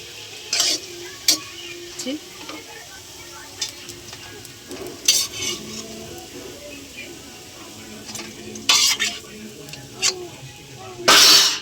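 Palm fruit fritters (taler bora) frying in oil with a steady sizzle, punctuated by repeated spatula knocks and scrapes against the pan as they are turned, and a loud clatter at the end.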